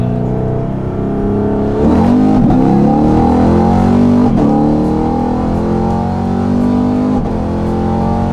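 A supercharged Camaro engine revs hard and climbs in pitch, dropping briefly at each gear change before pulling up again; loud, close and continuous.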